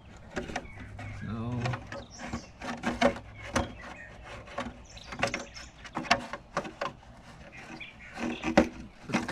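Engine cover being fitted onto a 2013 BMW 528i with the N20 engine, with repeated plastic clunks, knocks and rubbing scrapes close by, with a voice talking between them.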